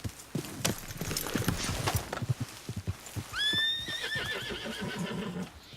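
In Red Dead Redemption II, a horse's hooves clip-clop in a quick, uneven rhythm, then a loud, clear neigh rises and whinnies for about two seconds. The sounds are fairly close and heard without talk.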